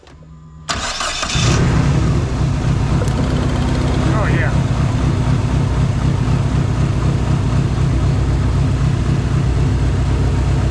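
A Dodge SRT-4 engine with one dead, unsparking cylinder cranks and catches, then idles loud and close with a rough, uneven rumble, a person speaking briefly over it.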